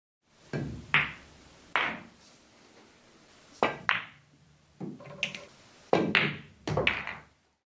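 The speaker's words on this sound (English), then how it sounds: "he can pull the cue ball off the rail a little with the stun shot we saw earlier" Pool balls on a table struck in a series of sharp clacks and knocks, with cue ball stun shots played off the rail, each hit a close, crisp thud spaced a second or so apart.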